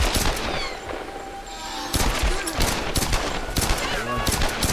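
Heavy gunfire in the Tomb Raider video game, loud rapid volleys and bursts with booming impacts crowding the scene, while a player's voice shouts briefly among the shots.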